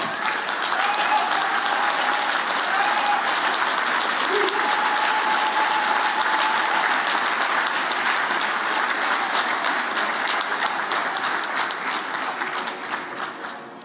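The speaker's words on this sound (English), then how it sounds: "please give her a round of applause" An audience at a political party launch in a hotel venue gives a sustained round of applause, loud and steady throughout and tapering slightly at the end, with faint whistle-like tones in the crowd.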